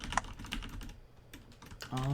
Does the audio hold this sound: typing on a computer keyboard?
yes